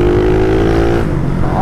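A Honda Twister with a 79mm kit revs under hard acceleration, a loud, close, buzzing engine tone that holds steady before easing off about halfway through.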